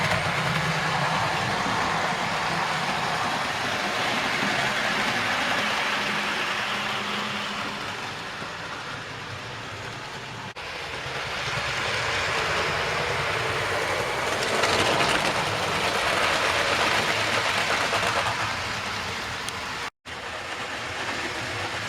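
Loud rumbling of a model railway train on a loft layout, rolling continuously with faint clicks as it passes over a point and a long crossing, swelling and fading as it moves near, then cutting off abruptly.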